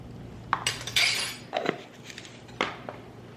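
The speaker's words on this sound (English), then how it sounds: "I'm just going to mix it in a little bit and then start to create a well" A utensil stirs a quarter teaspoon of salt into flour in a bowl, giving a few sharp clinks and short scrapes against the bowl, close and fairly quiet, with no talking.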